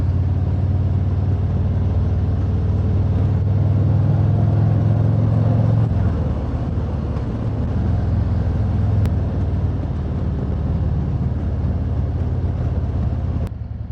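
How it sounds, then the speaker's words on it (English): Several motorcycles ride in a group along a scenic back road, their engines a steady, loud rumble heard from close behind; the rumble drops slightly in pitch partway through as the bikes roll on, with no talking. "Kind of fun to be in the back and watch the other bikes roll ahead."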